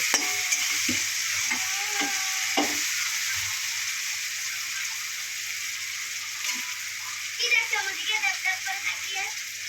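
Potatoes fry in a pan while being stirred, a close steady sizzle with rhythmic metallic scraping and clacking of the spatula, growing busier near the end.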